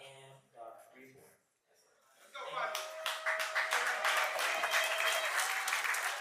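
A crowd at a street gathering at Restoration Plaza in Brooklyn bursts into applause after someone speaks, the clapping swelling and holding steady and fairly loud, with shouts and a voice over the top.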